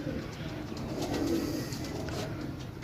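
Pigeons cooing softly and steadily in a small pigeon-selling setup, low murmuring coos layered over a constant background hum, with a faint voice in the mix.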